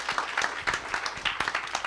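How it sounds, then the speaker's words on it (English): Audience applause for Michael and Bonnie at an evening sustainability challenge kickoff, a steady patter of many hands clapping at moderate volume with no voices over it. "Ladies and gentlemen, big round of applause for Michael and Bonnie."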